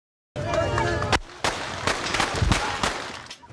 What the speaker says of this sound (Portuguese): Esse aqui é o vídeo do tiro.